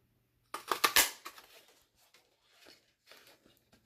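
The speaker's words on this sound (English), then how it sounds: "I'm going to use a pair of scissors to clean those up." Scissors trim the edge of a punched paper circle for a scrapbook page in a short burst of close snips and paper rustle, followed by fainter, scattered cuts.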